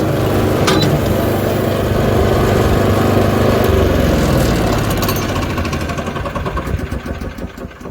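A Super Splitter log splitter runs outdoors in freezing winter weather, a loud steady engine drone with mechanical clatter that thins into rapid chugging pulses toward the end.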